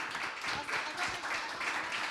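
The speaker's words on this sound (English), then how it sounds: "Let's give these guys a round of applause." A small event crowd at a Silicon Slopes founders gathering gives a round of applause, moderate steady clapping with some voices mixed in.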